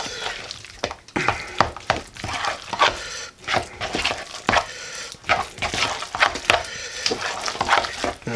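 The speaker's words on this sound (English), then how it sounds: "give this a good stir" A spoon stirs avocado egg salad with spicy brown mustard and pickled eggs in a bowl, giving repeated soft, wet scraping and squishing strokes in an uneven rhythm, close and fairly loud.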